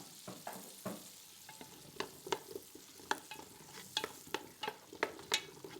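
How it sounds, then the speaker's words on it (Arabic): Onions sizzling in butter in a pan, with faint continuous frying hiss broken by repeated soft stirring scrapes and taps, close and quiet with no talk. "أول شي بعمل الزبدة، بنقلل البصل"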